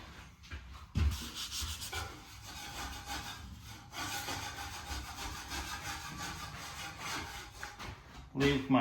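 Hand sanding of textured drywall, a steady dry scraping rasp that runs close and fairly loud for several seconds, with a brief knock near the start and a louder bump at the end.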